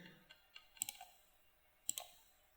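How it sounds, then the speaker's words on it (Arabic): A computer mouse gives two quiet double clicks, each a pair of quick, close, light taps separated by about a second of near silence. "وكمان مرة دبل كليك"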